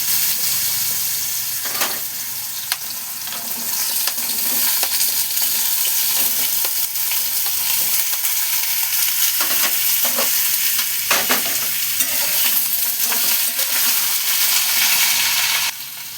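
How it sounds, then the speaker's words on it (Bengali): Potatoes frying in hot oil in a pan for a Bengali ridge gourd and lentil-dumpling curry, giving a continuous loud sizzle with intermittent scraping of a spatula stirring them, close up and without talk. "এবার এতে আমি তোমার এই আলুগুলো দিয়ে দিচ্ছি"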